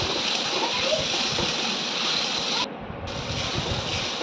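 Ridge gourd and potato fry in oil in a pan with cumin, coriander and Kashmiri red chili powder. A dense, continuous sizzle holds close and loud, with a brief dip in the middle.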